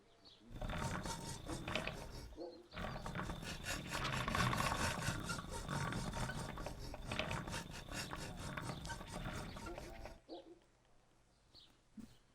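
Blade being sharpened on a grindstone in Kingdom Come: Deliverance, a steady close rasping grind lasting several seconds, briefly broken once and fading at the end.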